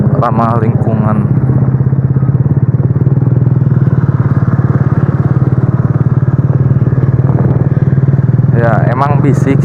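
Motorcycle fitted with a cheap, loud aftermarket exhaust, engine held at a steady raspy drone with brief throttle blips near the start and end, close and loud throughout.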